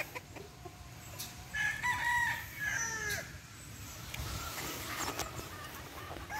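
Several crows from a Boston Black gamecock rooster at breeding grounds, loud and clear over a steady noisy outdoor background, with other fowl sounds nearby.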